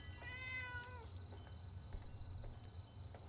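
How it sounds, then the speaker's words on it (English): A single drawn-out cat meow in the Fallout 76 video game, heard near the start over a low ambient hum, followed by faint scattered ticks and taps. "There's a cat somewhere."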